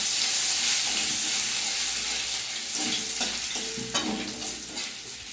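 Whole cumin and ginger paste fry in hot oil while being stirred in a pan for a chana dal dish, a loud close sizzle with scraping spoon strokes that eases slightly toward the end.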